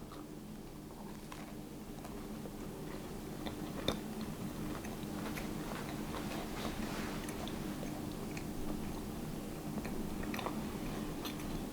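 Soft, close-up crunching as someone bites and chews a lemon crinkle cookie, quiet and intermittent against faint background hiss.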